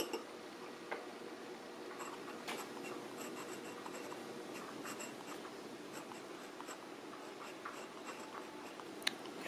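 A Lamy 2000 fountain pen writes on paper, its nib scratching softly in quiet, irregular strokes with faint ticks between them, close and alone.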